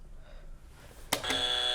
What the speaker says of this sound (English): with the trick question buzzer